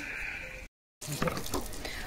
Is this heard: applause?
no